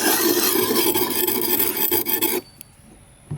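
A knife blade rasping steadily back and forth across a coarse carborundum sharpening stone, a loud dense scraping for about two and a half seconds before it stops, followed by near silence with a faint tap.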